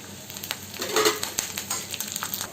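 Onions sautéing with curry leaves in a hot pan, a steady close sizzle with soft crackles and a few stirring scrapes, no voices.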